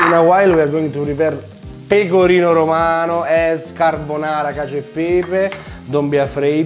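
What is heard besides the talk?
guanciale frying in a hot pan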